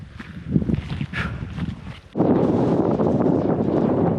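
Wind on an open hillside during a wild camp buffets the microphone, gusty and uneven at first, then surging into a loud, sustained roar for the second half, with no voices.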